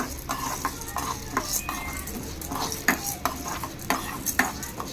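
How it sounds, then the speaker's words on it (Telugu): Toor dal dry-frying in a pan over a low flame, with a spatula scraping and stirring in quick, irregular strokes over a steady soft sizzle, close and fairly loud. "కందిపప్పు తీసుకొని సిమ్లో పెట్టుకొని ఫస్ట్ ఫ్రై చేసుకోవాలి"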